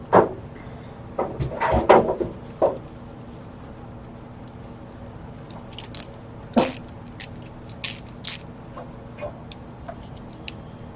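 A torque wrench ratchets in short clicking bursts while tightening ARP connecting rod bolts on an MGB engine, with irregular mechanical clicks and clunks spread across a quiet background.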